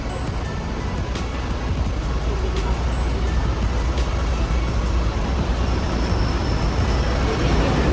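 Mercedes-Benz OH 1830 Jetbus engine idling, a low steady diesel rumble heard from nearby throughout with faint clicking on top, no talk.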